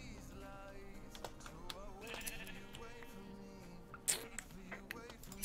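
Quiet, repeated sheep bleats from Minecraft float over a steady game-ambience bed, with soft clicking similar to keyboard typing and a brief sharp burst near the end.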